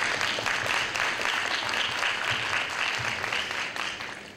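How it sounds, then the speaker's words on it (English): Audience applause at a high school English debate final in Gwangju, steady mixed clapping from a large crowd throughout, with no speech. "Please give a big round of applause to our grand finalists."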